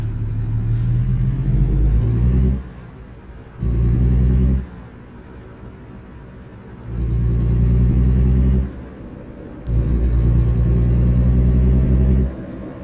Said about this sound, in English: Absolutely loving just the sound of even the stock engine in this model here.